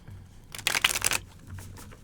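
A tarot deck is shuffled at close range in a single brisk, papery flurry lasting about half a second, with softer card rustles trailing after it.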